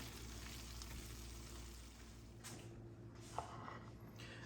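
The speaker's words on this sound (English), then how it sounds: "I'm just going to let this simmer on low just another 5 or 10 minutes" Caramelized onions in balsamic glaze simmer on low heat in a pan with a soft, steady sizzle and a faint clink near the end.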